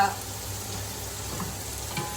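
Pumpkin pieces fry lightly in a pan with a steady, soft sizzle, faint and continuous, with no voices over it.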